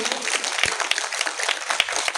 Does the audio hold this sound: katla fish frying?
no